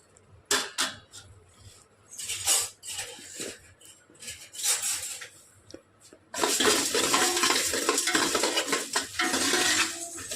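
Coriander seeds, cumin, cinnamon, four cloves, peppercorns and fenugreek dry-roasted in a pan: scattered scrapes and rattles of stirring, then a dense continuous rustling and clatter for the last few seconds, with no talk.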